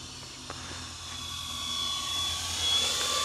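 An E-flite Twin Timber twin-engine RC plane with a 1.6-metre wingspan flies overhead with a steady electric whine and a faint whistle, rising slightly as it passes closer, heard outdoors over a grass field with no talk.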